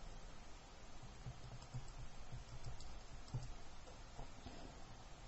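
Calculator keypad being tapped, a handful of quiet, quick key clicks over faint background hiss with no talk.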